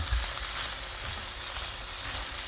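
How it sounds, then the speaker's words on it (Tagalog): Chicken with papaya and dark soy sauce being stir-fried in a pan, giving a steady, close sizzling hiss with soft low stirring bumps throughout. "binagyan ko ng dark soy sauce. Stir fry na natin."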